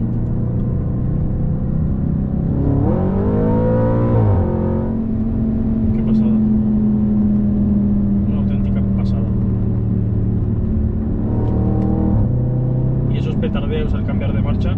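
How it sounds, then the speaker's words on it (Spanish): Audi RS5 B8 with an Akrapovic exhaust revving, its engine note rising and falling in a few throttle blips, close and loud, with someone talking over it throughout. "Tardeos al cambiar de marcha."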